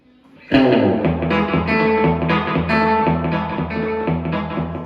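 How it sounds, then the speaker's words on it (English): Electric guitar through a BOSS RE-2 Space Echo on a small slapback tape echo setting plays a steady rhythmic pattern, a short quick echo repeating each note, loud and close, no voices. "we're going to start off with a real small echo setting there. A lot of people call slapback"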